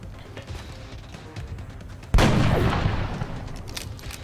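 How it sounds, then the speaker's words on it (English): A .50 caliber sniper rifle fires once in the turn-based strategy game XCOM: Enemy Within, a sudden loud blast halfway through that decays into a lingering rumble over quiet background game sound. "Oh, that's a 50 cal sniper rifle there"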